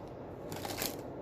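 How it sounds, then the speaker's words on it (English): Tarot cards are shuffled in a brief, soft riffling burst close by, a faint papery flutter over a low hiss. "I feel like we need one more good shuffle here."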